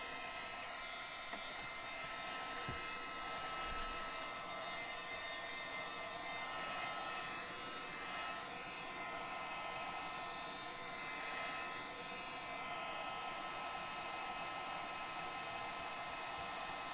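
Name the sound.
hair dryer drying wet paint on an art canvas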